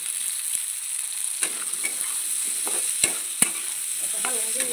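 Chopped potatoes and fresh green peas with chilli powder are stirred in a pan, with a soft background sizzle broken by scattered spatula scrapes and a few sharper clacks against the pan.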